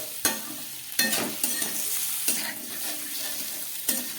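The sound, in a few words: cauliflower and potato sautéing with spices in a pan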